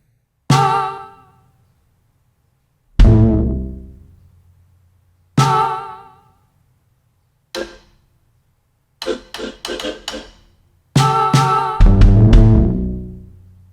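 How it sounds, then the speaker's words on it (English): Isolated drum-set hits, each triggering a short pitched vocal burst from electronics that decays quickly into silence, with a quick cluster of stuttered snippets toward the end. "except when I hit a drum, you hear a brief little moment of those vocals"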